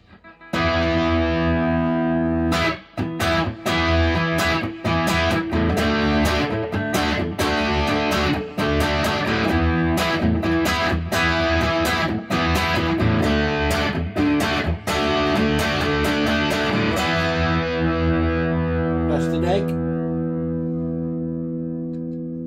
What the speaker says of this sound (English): But this really comes alive when you put a bit of distortion through it.